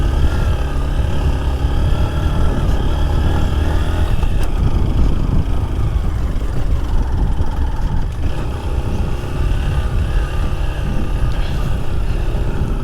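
A motorcycle ridden along a mountain road from Safebagar in Achham to Badimalika in Bajura, its engine a close, loud, unbroken drone that runs steadily from start to finish.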